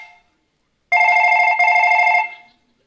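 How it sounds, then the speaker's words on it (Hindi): A telephone rings indoors with one loud electronic bell burst, split by a brief gap, then silence before it is answered. "मेरा फोन है।"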